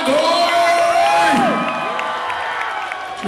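A concert crowd at the Hollywood Palladium cheers, whoops and claps during a 2016 show, a loud, sustained roar with a voice calling out over the noise before it gradually eases.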